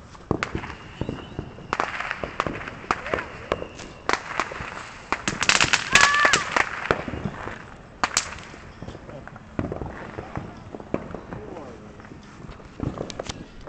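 Fourth of July fireworks and firecrackers go off outdoors in a long series of sharp cracks and pops. Denser crackling bursts come in the middle, and the reports are irregular and moderately loud.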